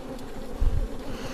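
Honey bees buzz steadily around an opened hive during beekeeping work, a dense close drone that swells briefly louder midway through.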